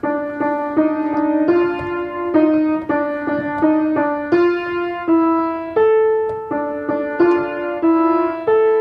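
A melodic video game music passage of plucked or struck notes moves through a chord progression at a moderate pace, clear and upfront, with no voices.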